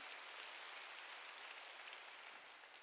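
Sustained applause from a church congregation during a Sunday worship service, a dense, even wash of clapping that holds steady at a moderate distance for the whole stretch.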